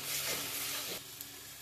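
Spice masala with a little tomato sauce fries in oil in a pan for a biryani, a steady close sizzle and hiss with brief scraping stirs, easing slightly toward the end.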